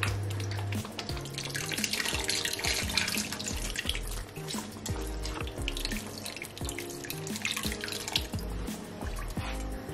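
Water pours and splashes from a tap into a pot for Sri Lankan trevally fish curry, a close, continuous gurgling stream with scattered drips and clatters, no talking.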